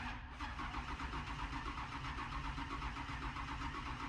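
A 1000 hp V10 drag truck with an aggressive cam idles steadily and loud close by, its lumpy, choppy exhaust pulsing in an uneven rhythm with no talk over it.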